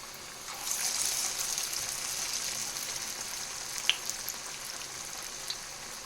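Steady, close sizzling and crackling of beetroot vadai frying in hot oil, with a few sharper pops and no talking.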